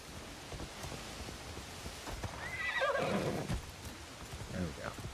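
A horse in Assassin's Creed Shadows gives a loud whinny in the middle, with clip-clopping hooves and soft rain underneath, and a shorter snort or whinny near the end.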